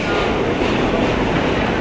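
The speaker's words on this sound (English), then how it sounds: "it seems like the trains in a subway in a New York City" A New York City subway train rumbles and rattles along the tracks, loud and continuous from close by with no break.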